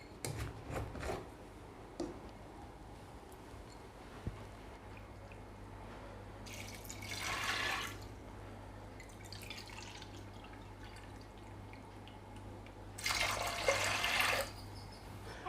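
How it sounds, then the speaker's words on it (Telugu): Water is poured from a glass into a pressure cooker holding lentils in a home kitchen: two short splashing pours, one midway and one near the end, over a faint steady hum. "అదే గ్లాసులో 2 గ్లాస్ వాటర్ యాడ్ చేసుకుందాం"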